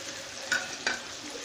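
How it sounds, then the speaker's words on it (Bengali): Onion paste added to prawns frying in a pan, a soft steady sizzle with two quick scraping stirs, close and with no voices. "চিংড়ি মাছটা হালকা ভাজা ভাজা হয়ে গেছে, এখন আমি দিয়ে দিচ্ছি পেঁয়াজ বাটা"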